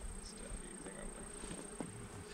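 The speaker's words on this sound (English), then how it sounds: "Oh, you got a bee in your head?" Faint bees buzz around a beekeeper during a hive inspection at a Drexel, Missouri farm, a low, continuous hum under soft outdoor noise.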